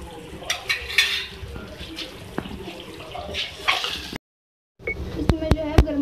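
Roasted cumin being stirred into chicken karahi in a pot, with wet scraping and clinking strokes, a brief pause, then a few sharp metallic taps near the end.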